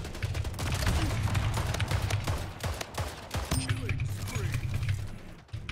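Rapid gunfire and explosive bursts from the video game Splitgate rattle almost without a break, mixed with mechanical clicks and game effects.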